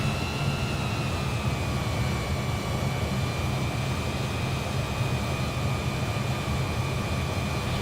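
Twin jet engines of a Fokker 28 airliner in Microsoft Flight Simulator, spooling up before takeoff: a steady broadband roar with a sustained high whine that shifts slightly in pitch, loud and continuous throughout.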